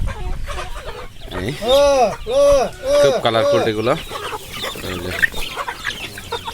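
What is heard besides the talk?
Pahari Hili Laijja chickens clucking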